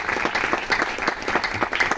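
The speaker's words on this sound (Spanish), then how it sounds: "Un aplauso, por favor" Applause from the audience at a university ensemble masterclass, a brief, fairly soft burst of steady clapping with no other sound over it.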